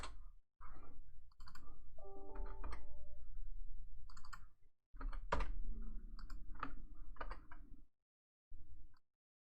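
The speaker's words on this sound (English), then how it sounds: "Apparently it doesn't like me typing 60." Quick bursts of clicking keystrokes tapping on a keyboard, in short irregular clusters separated by brief pauses, close and fairly quiet.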